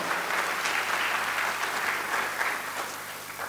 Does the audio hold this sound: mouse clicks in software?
no